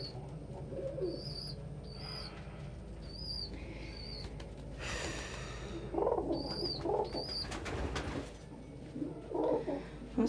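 Pet birds indoors coo softly and chirp in repeated short calls, with a burst of fluttering wings midway and rustling handling noises, fairly close, with no talk.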